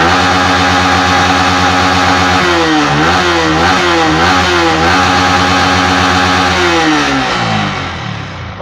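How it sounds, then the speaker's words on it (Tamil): A Yamaha MT15 motorcycle engine runs close by, starting from a steady idle and then blipped through several quick revs before settling, loud and without talk. "இப்போ நம்ம வந்து பைக்கை ஸ்டார்ட் பண்ணி பார்ப்போம்"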